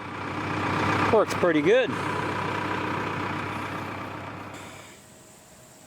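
A tractor engine running steadily with a CountyLine post hole digger auger attached, a loud continuous rumble that fades somewhat toward the end, with someone speaking over it.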